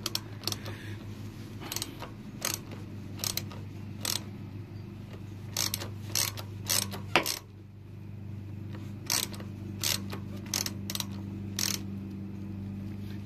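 Sharp metallic clicks and ticks in irregular bursts from loosening a brake caliper bolt on a 2018 RadRover electric fat bike, close up over a steady low hum, with no talking.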